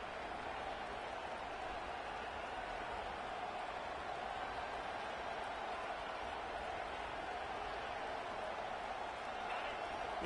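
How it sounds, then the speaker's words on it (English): A stadium crowd at a college football game, Georgia Southern at Georgia, roars in a steady, dense wash of noise that holds without a break from start to finish. "The roar of the crowd trying to fuel this defense to keep them pinned in their own end."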